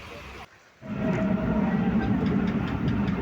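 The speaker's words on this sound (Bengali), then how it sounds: "ট্রেনের গতি ধীরে ধীরে কম হচ্ছে" Steady low rumble and rattle of a train gradually slowing as it nears Abdulpur station in Bangladesh, with a brief dip in noise early on before the heavy mechanical drone resumes.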